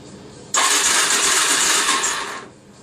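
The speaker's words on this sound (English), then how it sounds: "So we'll crank it over whilst hopefully this will pick up." A DRZ motorcycle engine cranks over in one loud, steady burst of about two seconds, with a broad, noisy whirr that starts sharply and then fades away, and there is no talking.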